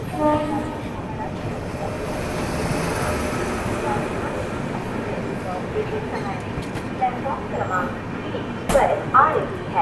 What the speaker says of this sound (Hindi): राजधानी एक्सप्रेस पहुँच रही है जळगाव जंक्शन रेलवे स्टेशन पर